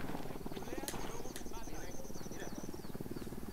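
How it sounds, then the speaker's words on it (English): Helicopter rotor thrum in Ghost Recon Wildlands, a steady low pulsing drone holding throughout, with a player talking over it. "we do have a helicopter here"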